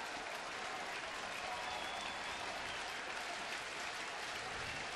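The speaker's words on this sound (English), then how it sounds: "This crowd getting into it" A baseball stadium crowd at a rainy Boston at Cleveland game cheers and applauds in a dense, unbroken roar of clapping and voices, loud and steady throughout.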